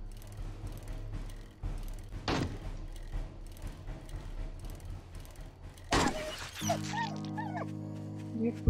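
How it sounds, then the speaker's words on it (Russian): A dog in the survival game 7 Days to Die gives short barks and whimpering yips at moderate distance, scattered through a steady game ambience with brief sharp impacts near the end. "Собака."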